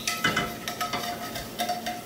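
A spoon scrapes and stirs around a pan as broth deglazes the fond, with soft clinks and a faint sizzle in a quick, uneven rhythm, close and fairly loud.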